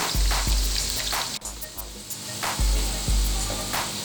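Chopped onions sizzle and fry in an open pot while zeera rice is being made, a steady crackling hiss with a few sharp pops and clinks of stirring, close and loud, with no talking.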